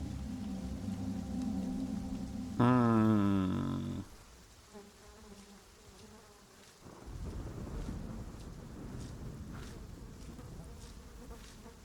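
Steady rain falls through a video game scene, a broad hiss that runs the whole time. A low rumble of thunder rolls in partway through, and a brief musical or tonal sound plays early on.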